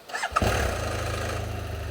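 A motorcycle engine cranks and catches close by in the Andes mountains, then settles into a steady, throbbing idle.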